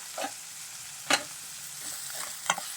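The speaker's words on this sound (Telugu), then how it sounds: "ఇదిగోండి మసాలా ముద్ద కూడా బాగా వేగింది." Masala paste for an Andhra-style magha (salmon) fish curry being stirred and fried in a pan, with quiet background sizzle and three distinct scraping stir strokes, close and moderate in level, no talk.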